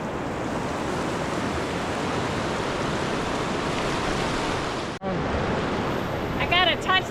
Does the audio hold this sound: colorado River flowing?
yes